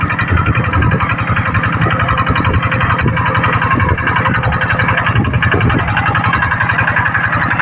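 An 8 horsepower Kubota engine drives an irrigation water pump for a rice field, running loud and close with a steady rapid chugging throb that holds unchanged throughout, with no talk.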